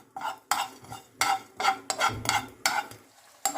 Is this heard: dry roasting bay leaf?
yes